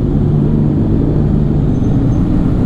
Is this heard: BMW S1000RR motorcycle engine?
yes